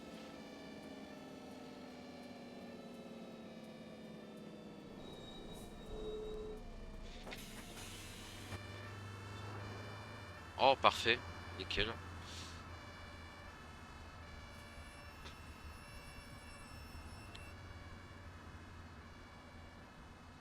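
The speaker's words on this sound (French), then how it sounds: "Ah, les pompiers, c'est un peu chiant à entendre." A fire engine siren in the OMSI 2 bus simulator, on a Van Hool A300 city bus route, wails in the background over steady bus engine hum, with a bus door and short mechanical clunks and a few spoken words.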